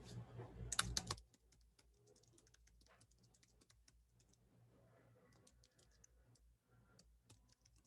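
Rapid clicks of fingers typing on a computer keyboard at a school sign-up screen, a loud burst of keystrokes at first, then lighter scattered taps.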